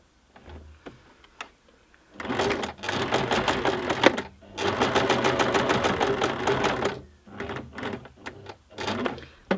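A sewing machine stitches fabric for hand-woven Christmas ornaments, running in two sustained bursts of rapid mechanical clatter, then slowing to scattered single stitches and ticks, close and loud.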